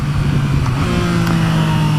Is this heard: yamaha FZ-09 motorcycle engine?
yes